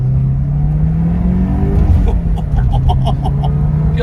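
A 1986 Porsche 944 Turbo (951) pulls away hard from a traffic light, its engine droning loud and close as it revs and climbs through the gears, with a brief chirping squeak near the end.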